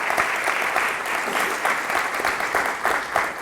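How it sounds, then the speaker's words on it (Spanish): A congregation claps in a church service, dense, steady applause throughout, fairly loud and even with no voices over it. "Vamos a darle un aplauso al Rey de Reyes y Señor de Señores, Jesucristo."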